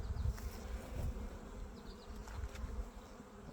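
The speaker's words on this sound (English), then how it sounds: "We like healthy bees." Honey bees hum and buzz around an open, healthy hive during an inspection, a close, steady drone with individual bees swelling and fading nearby.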